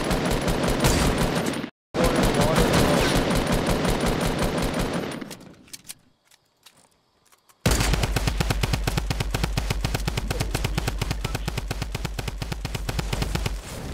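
Fortnite gunfire bursts in quick, loud rapid-fire volleys, stops briefly, drops to near silence for a couple of seconds, then resumes as sustained heavy automatic fire.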